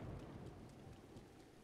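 A thunderstorm in The Legend of Zelda: Breath of the Wild brings heavy, continuous rain with a low rumbling of thunder underneath, quiet and without voices.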